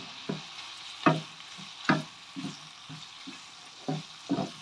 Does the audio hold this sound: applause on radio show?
no